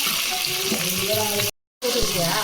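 Onions and green chillies sauté in a pan for biryani with a close, steady sizzle and stirring. The sound cuts out for a moment and then resumes.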